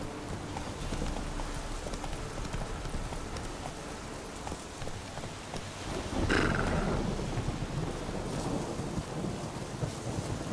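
Hooves of the horse Roach clip-clop in The Witcher 3 game world, a steady trotting rhythm set against rain and rolling thunder, with a louder rumble swelling midway.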